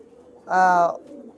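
A single close pigeon coo from a white golden pigeon, a loud rounded call lasting about half a second with a soft background hum before and after.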